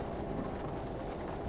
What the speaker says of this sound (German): Der Regen wird leichter.